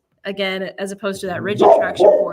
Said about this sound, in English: That's my dog barking.